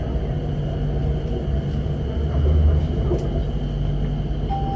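A Bangkok Skytrain pulls into a station with a low, steady rumble and whirring hum, a brief swell of noise midway and a tone sounding near the end.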